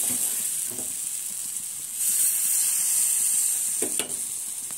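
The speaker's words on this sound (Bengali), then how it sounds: "এবার লাল লাল করে ভালোভাবে এগুলোকে ভেজে নেব।" Oat pancakes frying in a pan, giving a constant bright sizzle that swells midway, broken by a couple of soft utensil knocks, with no voices.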